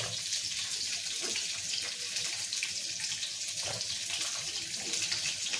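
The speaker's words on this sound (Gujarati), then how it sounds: "અને હવે આપણે બટાકા જે પાણીમાં રાખ્યા છે આપણે ધોઈને" Soaked potatoes being washed under running water at a kitchen sink during cooking, a steady hissing stream of tap water with faint splashes and clatter throughout.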